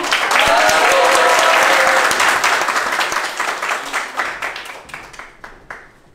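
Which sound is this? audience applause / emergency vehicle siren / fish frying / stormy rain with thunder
audience applause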